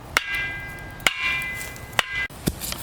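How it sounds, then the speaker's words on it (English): A metal tamping tool pounds a trellis post for a thornless blackberry trellis, four sharp, loud impacts spaced roughly a second apart, each ringing briefly over faint outdoor background. "but we got this tamping tool."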